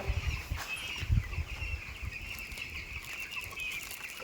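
Chickens cluck and rustle inside a poultry shed, with a steady high chorus of birds and a few louder thumps and flutters up close. No one talks.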